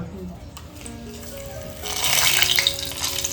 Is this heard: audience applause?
no